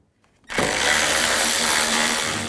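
A power tool fitted with a T30 socket spins out the cover screws on a 2007-12 BMW X3 engine: silence, then a loud, close, continuous whirring drone that starts abruptly and holds steady to the end.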